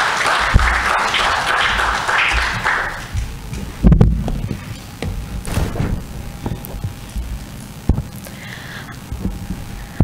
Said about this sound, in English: let's give a big rousing warm of applause to Miss Amelia Sharif.